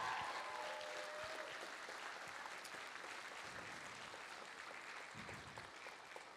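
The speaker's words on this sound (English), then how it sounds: "let's give our student choreographers a big round of applause." Steady applause from a large audience at a school Broadway show for student choreographers, dense clapping that holds evenly throughout without cheering or talk.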